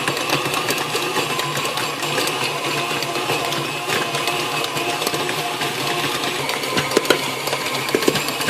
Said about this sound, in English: Turn it up a little bit more with that dough hook.